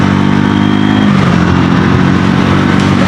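Triumph Tracker 400 motorcycle running steadily while ridden, a continuous loud engine drone with a smooth hum throughout, no voices.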